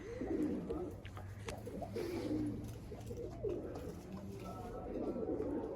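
Tumbler pigeons, including a four-year-old male, coo in soft, repeated throaty phrases, several overlapping calls close by, with faint background noise and no talking.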